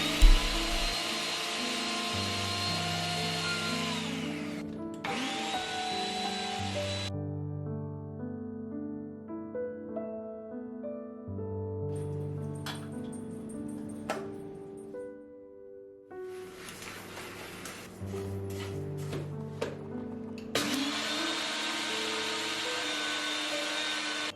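A kitchen grinder pulverizes dried red chilies into homemade chili powder, its harsh whirring roar running in two long bursts with soft background music playing between and beneath them.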